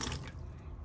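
Water poured into a bowl to start a rustic Italian bread loaf dough, a brief steady liquid trickle with dripping, close and alone.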